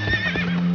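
A horse whinnies in a short, loud, wavering neigh with a steady tone beneath, with no voices, set in a medieval Scottish storybook scene of a princess fleeing a castle on horseback.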